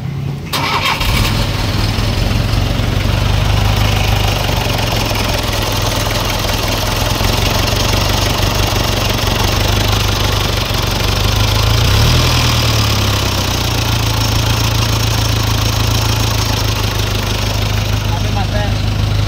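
A 4x4 engine idles steadily after a transmission repair, a loud continuous low rumble that starts abruptly and runs throughout, with voices talking faintly in the background.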